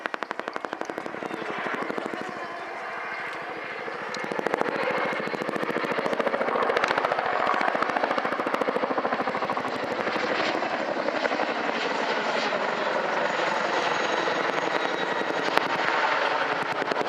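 A Chinook twin-rotor helicopter flies display manoeuvres at an air show, its rapid blade chop throbbing loudly and steadily throughout, with the engine roar swelling slightly partway through.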